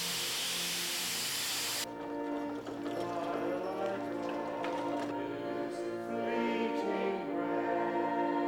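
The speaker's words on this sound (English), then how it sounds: "It took a whole year to get this Baldwin steam locomotive looking as it did a century ago." A Baldwin steam locomotive, restored to its look of a century ago, releases a loud broadband hiss of steam for about two seconds, then quieter rumbling and clanking continues.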